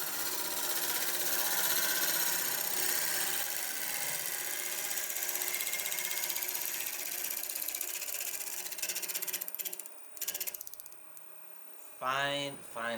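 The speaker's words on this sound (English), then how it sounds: "Always difficult where it's cutting and missing, cutting and missing." A wood lathe turns a natural-edge olive wood bowl, the tool cutting intermittently with a loud, steady roar that fades before a closing burst of talk.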